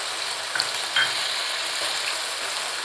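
Mutton pieces frying in oil with spices for a korma, a steady close sizzle with faint clinks of stirring and no voices.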